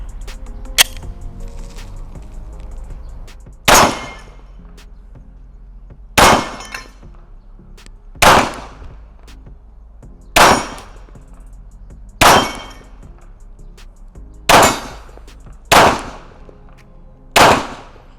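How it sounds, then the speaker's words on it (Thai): A Bul Axe Tomahawk 9mm Glock-system pistol is test-fired with practice rounds, eight loud sharp shots spaced a few seconds apart, each with a short echoing decay in an indoor range. "เริ่มทดสอบยิงกันนะคะ"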